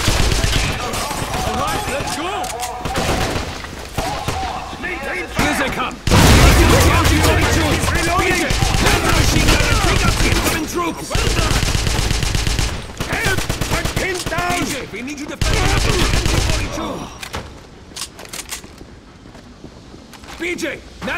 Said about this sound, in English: BJ, man the machine gun and take out the incoming troops!